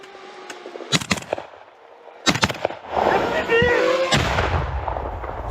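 Artillery fire and explosions ring out in frontline combat footage, with several sharp, loud booms in separate bursts and a rumbling blast later, while voices shout in between.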